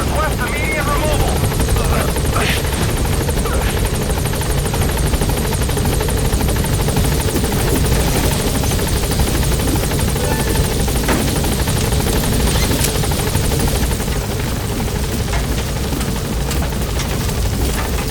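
Helicopter rotor thumping loud and steady throughout, the Pequod transport coming in to land in the video game Metal Gear Solid V: The Phantom Pain, with a voice speaking over the constant engine and blade noise.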